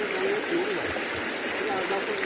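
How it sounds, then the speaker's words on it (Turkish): Water in a creek being panned for gold flows strongly with a loud, steady rushing wash, while someone talks over it. "Ama su çok şiddetli akıyor."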